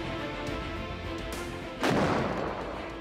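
A Msta-B howitzer fires a single heavy artillery shot, a loud sudden boom that rings out and decays over a steady background rumble, with no talk.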